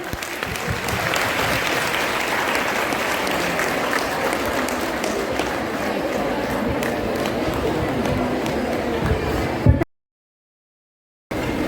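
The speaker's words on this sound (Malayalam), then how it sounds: "എല്ലാവരും കയ്യടിച്ച്" An audience claps loudly and steadily at an award event, a dense sustained wave of applause that cuts off abruptly near the end.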